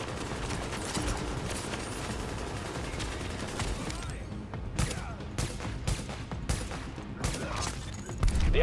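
Sustained gunfire from the video game The Division on the PC beta, played on a hard mission, with dense overlapping bursts that run the whole time and a sharper shot near the end, partly under game voices.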